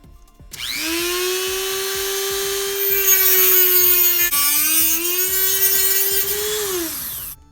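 A grinder's cutoff wheel slices through a Subaru high-pressure fuel line, a loud steady high-pitched whine that spins up, holds for several seconds with a brief dip, then winds down, with no talk.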